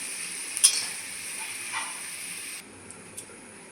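Potato pieces frying in oil in a pan give a soft, steady sizzle and hiss, with a brief clatter of stirring near the start. No one speaks.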